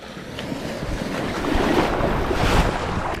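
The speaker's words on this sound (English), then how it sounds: "Oh no, a wave." An ocean wave breaks and washes in at a sandbar at high tide, a rising rush of surf mixed with wind buffeting the microphone.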